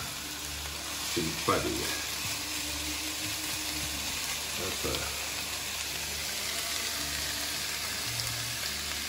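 Chopped onion frying in a pan for a Canarian-style sauce, a steady loud sizzle throughout with a couple of stirring scrapes, while a person speaks briefly over it.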